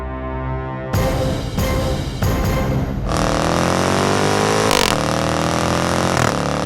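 A Jaguar car engine revs hard with a loud, throaty exhaust, rising and dropping through several sharp blips before holding a deep, sustained roar.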